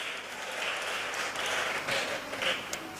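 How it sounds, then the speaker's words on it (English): Audience applause at a school graduation ceremony, a steady moderate patter of clapping lasting a few seconds, with a faint voice underneath. "A round of applause for grades 6-1 to 6-4"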